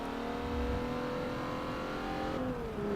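The engine of a C class car in Forza 7 drones steadily under load while racing. The pitch stays even, then falls off as the driver shifts or lifts.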